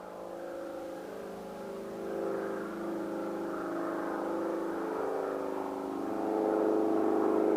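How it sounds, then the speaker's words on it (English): Steady traffic hum from cars in a shopping area outside, a continuous low engine drone that swells slightly near the end, with no distinct horns or passes standing out. "Lots of the audio sounds like car noises, horns, and even sounds of a helicopter at one point."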